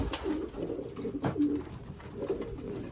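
Pet doves give soft, low cooing calls, a few close repeated coos spaced about a second apart over quiet room noise, with no talking.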